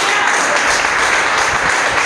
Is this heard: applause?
yes